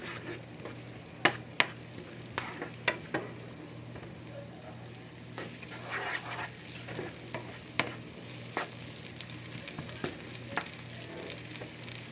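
Breakfast food cooking in a pan, an even sizzle under repeated scraping stir clicks and clatter, with a faint low hum beneath.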